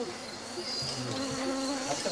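Close, continuous buzzing of bees and flies humming around an open-air sleeping spot in Gabon, a steady drone with no voices.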